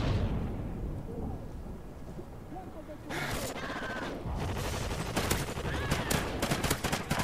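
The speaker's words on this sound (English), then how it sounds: "That was just a random shot." Gunfire in Call of Duty Ghosts multiplayer: a quiet stretch, then sudden loud bursts of shots and sharp cracks in the latter half, with game noise around them.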